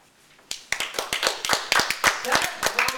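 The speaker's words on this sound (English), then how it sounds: "That round of applause" An audience bursts into applause, with dense, close hand clapping that starts abruptly and keeps up at a lively, slightly uneven rhythm.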